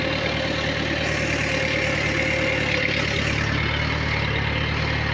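A tractor engine puddling a flooded paddy field at night, a loud, constant low drone holding steady throughout with no speech.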